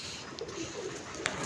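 Pigeons in a loft give soft, low coos, faint and distant, with a steady background hiss and no talking.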